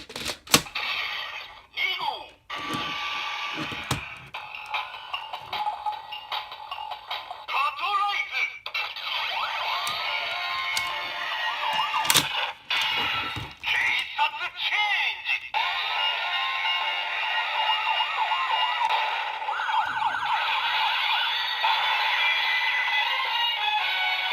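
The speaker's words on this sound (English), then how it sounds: "So your standard fare for Patranger transformation noises." A Patranger toy transformation changer makes a busy run of electronic sound effects, with clicks, beeps and tones that shift over about twenty seconds, close and fairly loud.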